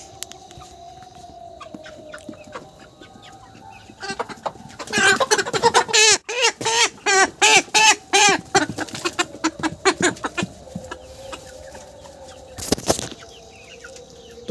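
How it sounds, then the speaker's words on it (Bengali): Chickens flap their wings loudly and squawk in bursts as a broiler bird is caught for weighing in winter, with quieter clucking before and after the commotion. "প্রথমে একটা মুরগি ধরে নিই"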